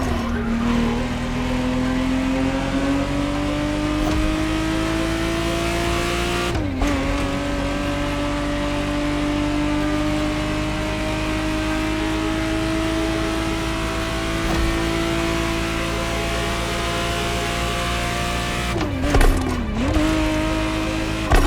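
1991 Ferrari Testarossa 512 in The Crew Motorfest, its engine droning steadily and rising slowly in pitch through long gears, with two quick gear shifts marked by brief dips and tire noise, loud and close.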